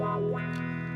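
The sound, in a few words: wah pedal on electric guitar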